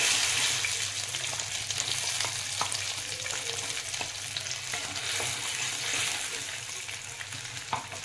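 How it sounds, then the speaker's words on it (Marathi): Paneer masala gravy fries in two spoons of oil, a close, steady sizzle with spatula clicks and scrapes scattered throughout and no talk. "आता ग्रेव्ही आपली भाजण्यासाठी 2 चमचे तेल घालून घेतले, आणि इथं आता मी ही ग्रेव्ही घालून घेते याच्यामध्ये"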